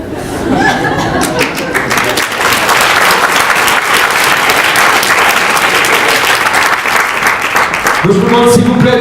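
Sustained audience applause at a Buffy fan meet, a dense crowd clapping loudly for about nine seconds, with a few chuckles and laughs mixed in and voices rising near the end.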